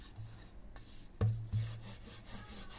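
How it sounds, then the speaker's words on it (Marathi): A rolling pin rubs wheat-flour chapati dough flat on a board while making khari, giving soft scraping strokes broken by two low knocks partway through. "आता आपल्याला ह्या पद्धतीने सगळ्या चपात्या अशा लाटून घ्यायच्यात।"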